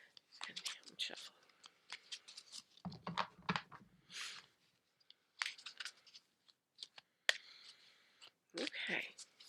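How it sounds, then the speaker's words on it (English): A deck of oracle cards is shuffled in close, quiet bursts of crisp riffling and flicking, broken by pauses, with a soft voice speaking between them. "And I'm shuffling."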